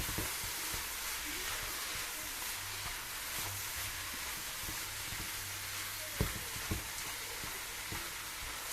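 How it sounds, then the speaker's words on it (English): Fish rolls with carrot, cabbage and pepper are stirred in a pan, giving a quiet, steady sizzle broken by a few utensil scrapes and knocks, with two louder clanks near the end. "So you keep on stirring it."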